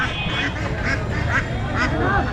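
Several ducks quack loudly and repeatedly close by, their calls overlapping with murmuring voices and crowd babble.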